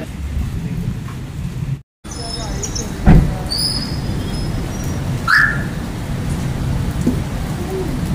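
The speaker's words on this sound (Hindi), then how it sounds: "तो देखो बारिश।" Steady heavy rain hisses throughout, a dense broadband wash with a brief dropout and a couple of faint passing sounds in the background.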